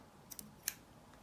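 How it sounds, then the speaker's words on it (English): Scissors snip beading thread close to the knots of a beaded Russian spiral necklace, giving three short, quiet clicks in an otherwise hushed setting. "here I can go ahead and cut the thread at the very base"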